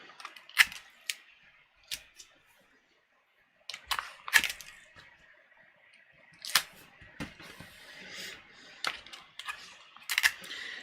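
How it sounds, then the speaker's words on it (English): Tape goes down on a paper sleeve pattern in close, sharp irregular crackles and snaps, with a quiet pause in the middle and more tearing and pressing after it. "I'm going to tape that down"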